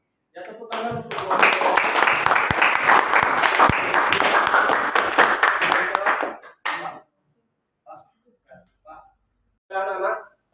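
A classroom of students in a vocational school session clapping together for several seconds in a loud, dense burst that stops abruptly, followed by a few scattered short claps and brief voices.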